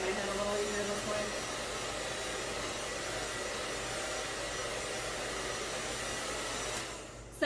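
A handheld blow dryer drying hair while a brush works through it, blasting a loud, steady airy whoosh for about seven seconds before cutting off abruptly at the end.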